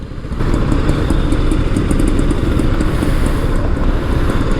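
A 2020 BS6 BMW G 310 GS with a 313cc single-cylinder engine is ridden at steady speed, producing a loud, continuous engine drone mixed with wind rush, close to the rider and without speech.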